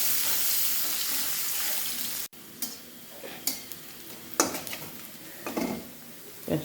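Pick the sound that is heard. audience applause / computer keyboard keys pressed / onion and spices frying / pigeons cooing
onion and spices frying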